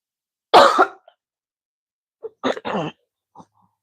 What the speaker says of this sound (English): Am I coughing